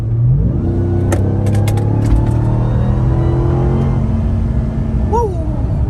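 A Ram TRX pickup's 707-horsepower V8 revs hard, rising into a deep, loud roar that holds steady before easing off, close by, with a short whistle-like sound near the end.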